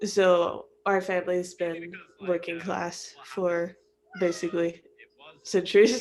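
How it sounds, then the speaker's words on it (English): A house cat meows several times close by in a home while a person keeps talking over it. "sorry about the cat."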